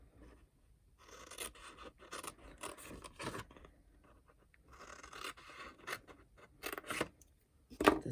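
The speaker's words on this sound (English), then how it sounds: "I'm going to cut on the bottom up to the 2-inch score line to make the bottom tabs of my box" Scissors cutting up to a score line on the bottom of a paper box to form its tabs, making soft close rasping snips in irregular bursts with short quiet gaps between, fairly faint and with no talk.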